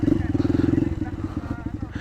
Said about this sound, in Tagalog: Mahina yung motor natin sa akyatan.